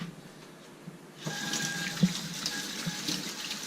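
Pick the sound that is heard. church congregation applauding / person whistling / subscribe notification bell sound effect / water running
water running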